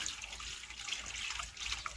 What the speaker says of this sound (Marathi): हे नळाला पाणी आलंय हे आता आम्ही भरून घेते